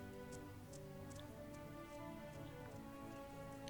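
Soft, steady rain patters in My Time at Portia, a faint even hiss with scattered light drops that continues throughout.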